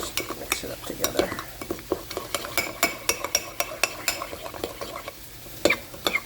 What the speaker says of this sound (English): And get your old spoon or fork. Just mix it up together.